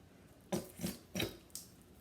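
Several short sputtering squirts from a nearly empty squeeze bottle of sauce, four wet spurts spaced about a half second apart, close and fairly quiet.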